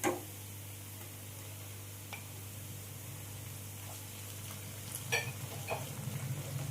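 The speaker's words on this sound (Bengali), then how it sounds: "আবারও আমি পেঁয়াজের সাথে ভালো করে টমেটোটা ভেজে নেব" Chopped tomato fries with onions in a pan for palak paneer, a steady low sizzle with a hum beneath it, broken by a few light clicks and stirring scrapes, close and quiet.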